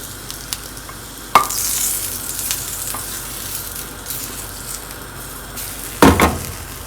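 A burger patty fries in a pan after being flipped, giving a steady sizzle throughout with a loud scraping clatter near the start and another toward the end.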